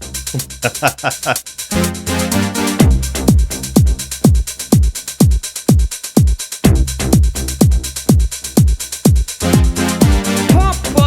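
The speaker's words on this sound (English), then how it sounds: "Just by the hi-hat, you can tell something is coming." A pumping dance track with steady kick drums and bright ticking hi-hats driving a busy, loud groove, with synth stabs early on.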